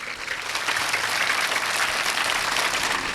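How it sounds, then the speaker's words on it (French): An audience at a school ceremony in Ouakam breaks into applause, many hands clapping in a dense, sustained patter that swells within the first moment and stays strong throughout. "On applaudit très très très fort."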